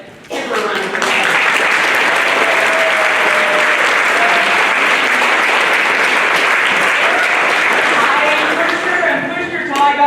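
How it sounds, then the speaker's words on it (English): A band concert audience breaks into loud, sustained applause for the newly named student council president, with dense clapping starting after a second and holding strong before tapering near the end, a few voices mixed in. "Give her a round of applause."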